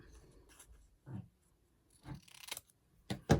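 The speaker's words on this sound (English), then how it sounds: "We'll cut that off over there" Scissors snipping a scrap of paper while laying out a page, a few quiet, separate cuts and rustles close by, ending in two sharper snips.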